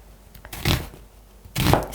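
A kitchen knife slices onions on a cutting board with two crisp chops about a second apart, close and clear against a quiet background.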